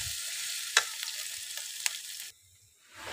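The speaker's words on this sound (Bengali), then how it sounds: "এখন পেঁয়াজটা ভাজা হয়ে গেছে" Sliced onion sizzling in a pan with a few sharp stir clicks. The crackling frying noise runs steadily, then cuts off abruptly near the end and leaves near-silence.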